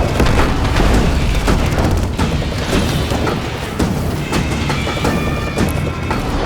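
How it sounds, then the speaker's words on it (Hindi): Dramatized explosion bringing down a garrison wall during a military rescue assault, a loud sustained booming roar with crashing debris rumbling throughout, no voices heard. "जैसे ही एक जोर का धमाका इस गैरिसन की दीवार को नीचे गिराता है, कैप्टन थापा और उनकी टीम"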